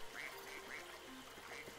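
Several quick, nasal duck quacks in a video game, Spyro Reignited Trilogy, repeating in an uneven rhythm over a soft bed of game ambience.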